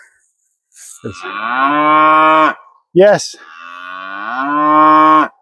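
Two long, loud cow moos close by, separated by a short pause in which a person says a single word.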